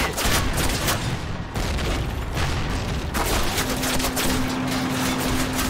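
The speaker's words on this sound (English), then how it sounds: "little people's gunfire can't be hurting this tank" Dense, continuous bursts of video game gunfire with heavy booms and a tank, from Call of Duty (2003), loud and relentless throughout, like a chaotic battle.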